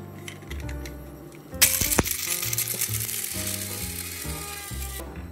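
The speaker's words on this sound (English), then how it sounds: "I started with the allspice berries, chucked them in the spice grinder," Electric spice grinder whirring through whole allspice berries, a rattling clatter starting abruptly partway in, then a steady buzzing grind with berries rattling inside, close and moderately loud.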